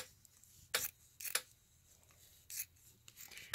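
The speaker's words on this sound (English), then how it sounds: "then I cut all the way along" Scissors snipping along the applique stitching on a towel, a few short quiet crisp cuts spaced apart against a faint background.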